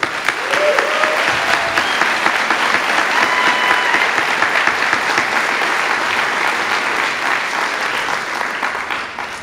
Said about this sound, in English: One last round of applause to all of our award recipients.